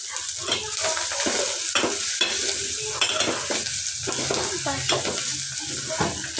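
Frying food with turmeric is stirred in a pan, a continuous sizzle broken by repeated scraping strokes of a spoon every half second or so, close and loud.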